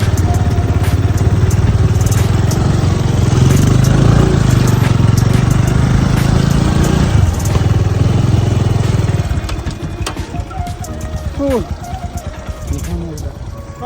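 A motorcycle climbs a mountain road toward Hulangala Mini World's End in Sri Lanka. Its engine drones loudly and steadily for about nine seconds, then drops to a quieter level while a voice is heard.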